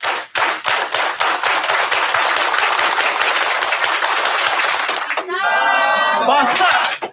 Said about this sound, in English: I would like to invite us all to start off graduation today with a unity clap.